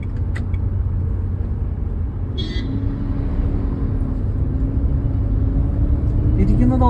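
A Renault KWID automatic pulls out onto the road during a driving lesson, its low engine rumble and road noise steady and close from inside the cabin, with a brief faint high chirp partway through.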